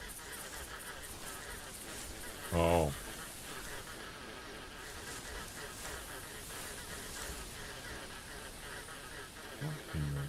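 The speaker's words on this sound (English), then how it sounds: "It's just one geese." A single goose in theHunter Classic lets out a short, loud honking burst, with a couple of fainter honks near the end, over steady outdoor ambience and a man's brief exclamation.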